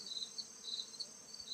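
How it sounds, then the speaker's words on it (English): Honey bees buzz as they return to the hive during a trap-out in Bergen, New York, a faint, steady insect drone with a soft pulsing rhythm and no talking. "the bees are returning from the field, and they're loading up on the outside of this cone for this trap out"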